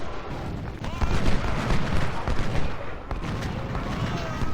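Dense, continuous musket fire and artillery booms from the Civil War strategy game Ultimate General: Civil War during a heavy river-crossing engagement, a loud rolling barrage of overlapping shots.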